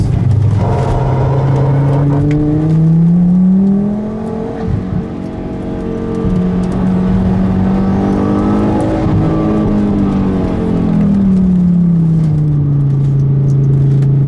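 A sleeper Volvo's engine pulls hard through a series of turns on a winding road, loud and close throughout, its pitch climbing and dipping as it accelerates out of each bend.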